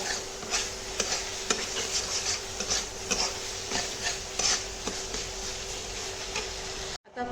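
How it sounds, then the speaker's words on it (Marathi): Small chicken pieces cook on a tawa for a street-style burger, with a steady sizzle under repeated scraping and stirring clicks of a utensil on the hot pan, moderately quiet and close. "व्यवस्थित असं चिकनला आपण आता शिजवून घ्यायचं आहे"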